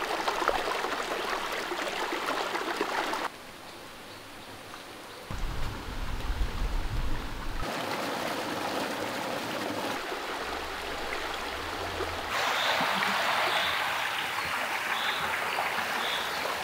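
A forest stream flows along the Napittachora trail near Mirsarai, a steady rushing and trickling of water that shifts in loudness from moment to moment, with no voices.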